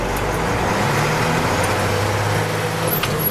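Heavy truck engine droning steadily in the cab during double-clutch gear changes, a loud continuous low rumble with road noise and no speech.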